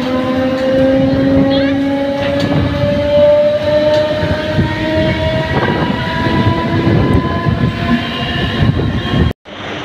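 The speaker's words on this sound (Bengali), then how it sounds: "ট্রেনটা যাচ্ছে, খুব সুন্দর লাগছে।" A passenger train passes through a station platform with a loud, steady rumble and wheel clatter under sustained horn tones. People talk over it before the sound cuts off abruptly near the end.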